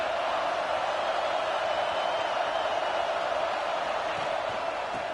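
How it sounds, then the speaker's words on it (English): A football stadium crowd gives off a dense, continuous roar of voices with no breaks, loud and steady throughout. "This crowd bringing the energy and noise early."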